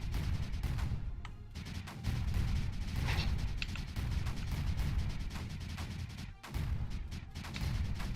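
Mortars firing in the strategy game Creeper World 4, a dense, continuous barrage of overlapping booms and thuds that stays loud for the whole stretch, with only a brief dip near the end.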